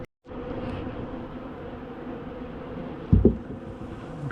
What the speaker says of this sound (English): These bees cleaning them up there.